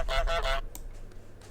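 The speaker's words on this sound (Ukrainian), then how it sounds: "Нормально чути гусака" Goose honking in a goose video game, a loud, close burst of two or three harsh honks followed by quieter game ambience.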